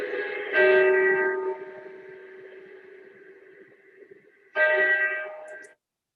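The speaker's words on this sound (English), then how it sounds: "I needed a church bell" A church bell rings out twice: a loud, ringing strike that decays slowly into a long sustained hum, then a second bright strike near the end that cuts off abruptly.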